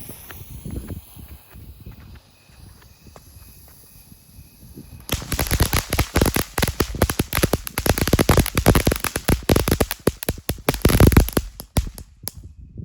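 A Phantom happiness fountain firework bursts into dense, loud crackling after a quieter stretch, with rapid popping and sizzling sustained for several seconds close by.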